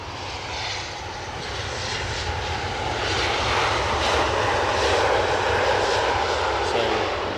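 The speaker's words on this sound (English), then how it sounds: "No doubting that's an Embraer 190." Embraer 190 jet idling or taxiing at Edinburgh airport, a steady loud engine roar with broadband whine that swells gently and holds throughout, with faint voices underneath.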